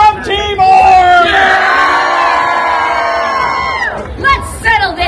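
A large outdoor crowd at the Colorado Renaissance Festival screaming and cheering in one sustained, loud roar of many voices, swelling and then breaking off into scattered shouts.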